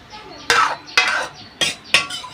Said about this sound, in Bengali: এবার এইটা উল্টিয়ে এই চাউমিনটা উল্টিয়ে 5 মিনিট মতন নুনে ঢাকা দিয়ে রাখবো